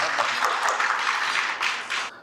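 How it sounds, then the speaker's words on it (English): An audience at a medical CME talk on stroke applauds an invited speaker from a medical college, a dense burst of clapping from many hands that holds steady, then thins out and stops. "Give a big round of applause."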